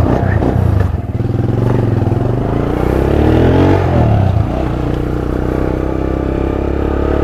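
A motorbike engine runs loud and close, setting off toward Bahawalpur, with a steady throb that swells briefly as the rider pulls away, its rumble dominating throughout.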